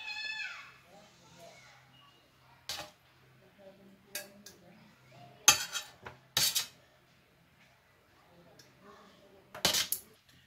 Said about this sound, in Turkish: Tüm mantılarımızı bir porsiyonluk şöyle sunum tabağımıza alıyoruz.